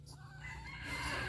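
A rooster crows in a backyard garden among many chickens in Dong Thap, Vietnam, a single short, fairly faint call rising slightly in loudness toward its end.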